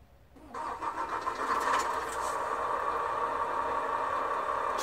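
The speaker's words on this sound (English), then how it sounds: "Start the engine." A truck engine with an air brake system cranks briefly, catches within the first half second, then settles into a steady, even idle close by.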